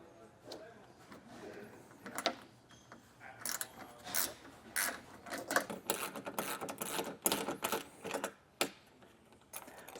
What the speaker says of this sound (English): I'm just doing this with an 11mm socket wrench and then also an 11mm ratcheting wrench just to get it in there and get that nut fully tightened down.